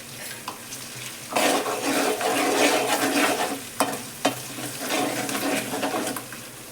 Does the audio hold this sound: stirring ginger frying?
yes